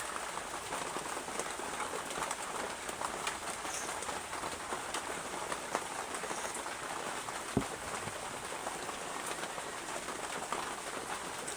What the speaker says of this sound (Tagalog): Tapos maririnig mo may pumapatak na sa bubong.